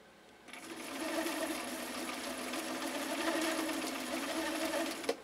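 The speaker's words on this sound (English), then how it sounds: "So now we're going to do the Point de Paris hem stitch." A Viking 6370 sewing machine stitches a Point de Paris hem stitch, a steady close mechanical whir and rapid needle patter running continuously for several seconds after a brief quiet start, ending with a small clunk.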